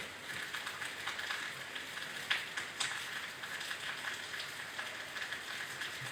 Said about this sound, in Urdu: بارش ہو رہی ہے یہاں سے